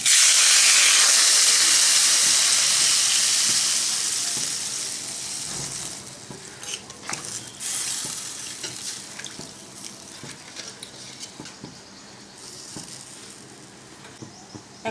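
Water poured onto fried potatoes in a hot pan bursts into a loud, roaring hiss of steam that gradually fades into a quieter bubbling sizzle with scattered pops and clinks.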